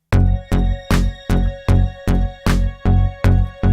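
A bright synth note repeats in even pulses, about eight times, each with a sharp attack and short decay, loud and alone.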